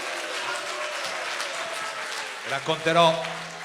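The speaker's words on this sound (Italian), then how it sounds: "Un applauso, auguri!" Audience applause on a birthday, a broad wash of clapping mixed with voices throughout, swelling louder near the end as a voice rises over it.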